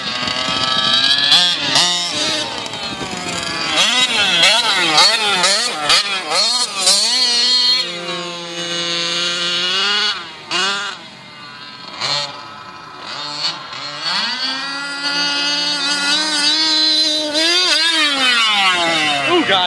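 An RC40 radio-controlled car engine keeps running after a wreck, its loud, close buzz rising and falling in sweeping revs with brief drops toward idle.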